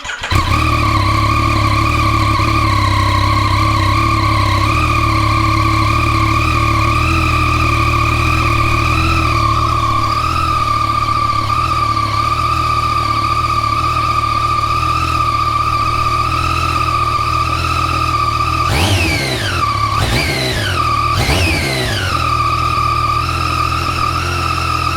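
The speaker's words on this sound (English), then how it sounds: "so we'll just do a cold start for the stock exhaust" Yamaha FZ09 motorcycle on its stock exhaust during a cold start: a loud, steady idle with a firm low rumble and a sustained tonal drone, then three quick throttle blips near the end.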